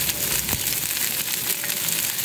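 Oil and steak sizzle on a Blue Rhino Razor griddle, a steady, close hiss with faint crackles, heard without talk.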